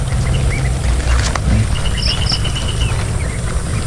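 Domestic ducks quack repeatedly at a water drinker, their calls close and clear over a steady low rumble and bustle of the flock, with no talk.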